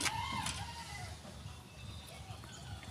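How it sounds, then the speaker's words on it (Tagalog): Chickens cluck and chatter faintly in the background, a short high call at the start, with soft farmyard noise throughout. "Nag-alaga tayo ng manok mga birds na padadamihin natin."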